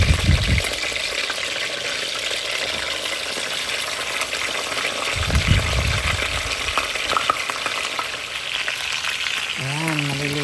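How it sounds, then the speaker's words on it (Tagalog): Steady, loud sizzling and crackling of a salmon head frying in hot oil, continuous throughout, with a few brief clatters and a short rising tonal sound near the end. "At abangan natin maprito pagkatapos."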